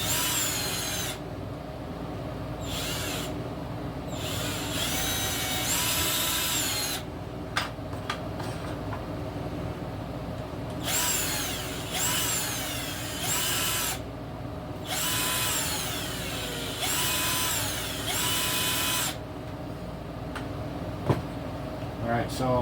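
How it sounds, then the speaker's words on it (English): Power drill boring holes into the tank of an RC truck scale build, whining in repeated bursts of several seconds each with short pauses between, close and loud, with occasional speech. "so I'm gonna drill out holes on the tank."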